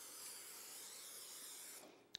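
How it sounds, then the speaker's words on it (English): Cooking spray hisses steadily onto baking dishes for burritos, a close continuous spray that cuts off abruptly, followed by a small clink. "I'm going to spray both of my dishes."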